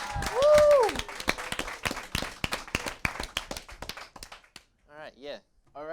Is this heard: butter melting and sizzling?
no